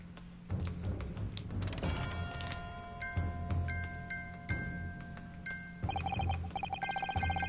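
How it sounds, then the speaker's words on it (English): A music box in the Great Ace Attorney video game plays sustained single-note tones in a Morse code-like pattern of short and long beeps, clear and moderately loud over ambient game music. "Sounds like Morse code."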